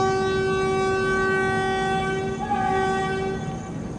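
Andhra Pradesh Express train departing a station in Odisha, its horn sounding a long, steady loud blast over the low rumble of the moving train, fading slightly near the end.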